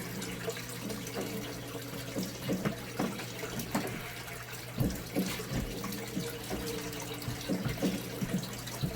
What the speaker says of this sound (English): About how much water I drain out of here.